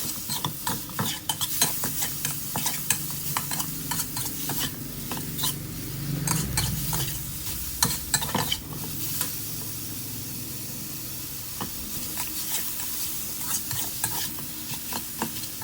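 Minced pork with lemongrass, dried chilies and red chilies stir-fried until dry in a pan, a steady sizzle under repeated scraping and stirring strokes from a spatula, fairly close and continuous with no talking.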